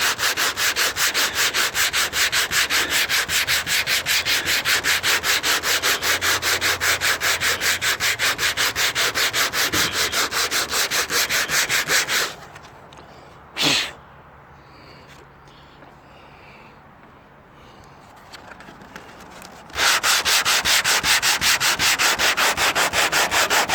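Steady, loud crosshatch sanding rasps across the body of a 1957 Chevrolet Bel Air, then cuts out for several seconds with one brief knock in the quieter gap before the sanding resumes at full strength.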